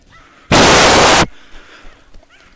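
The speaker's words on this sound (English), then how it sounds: "my rifle is shooting like a shotgun" A single loud, wide blast from a rifle firing with shotgun-like spread in the VR game Rec Room, lasting under a second, with quiet game ambience before and after.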